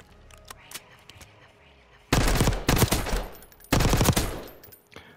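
Rapid gunfire rings out at the firing range in Black Ops 6, with two loud sustained bursts of automatic shots, preceded by a few quieter scattered shots.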